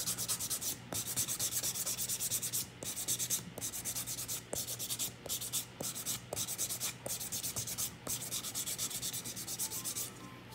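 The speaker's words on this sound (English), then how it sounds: "I'm just gonna go in with the coarse side, buff everything out, just so everything can be nice and smooth" Coarse side of a nail buffer worked across fingernails to smooth them, giving close, steady, rhythmic rubbing strokes with brief pauses between passes, no talk.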